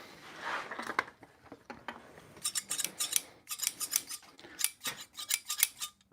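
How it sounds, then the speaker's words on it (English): Large scissors trimming the corners off a square sticker in a shop, a quiet sequence of crisp snipping cuts that speeds into rapid bursts of close, sharp blade clicks with no one talking. "I'm gonna trim it. I'm gonna cut it."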